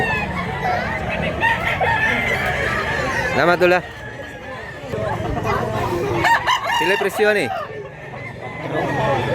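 A rooster crows loudly several times among other fowl at a chicken market in Mantalungon, Cebu, while people talk and haggle over prices close by throughout.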